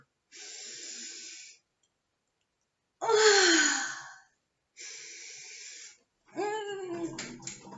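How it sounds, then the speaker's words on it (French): Three deep, slow breaths close to the microphone, each a long hissing inhale or exhale separated by short pauses, with a final breathy sigh at the end. "Prenez 3 grandes respirations."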